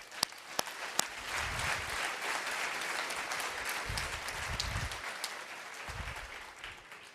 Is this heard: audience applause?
yes